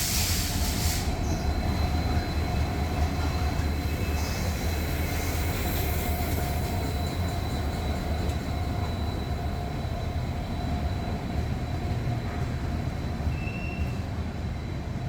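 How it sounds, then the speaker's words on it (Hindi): A Dibrugarh–New Delhi Rajdhani Express arrives at a station platform, with a steady loud rumble of rolling rail cars and wheel squeal running unbroken throughout. "तो ये अपनी ट्रेन आ गई"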